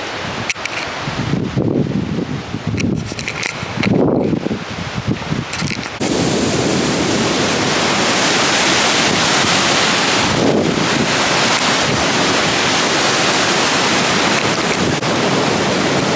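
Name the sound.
waterfall crashing down on a hiking trail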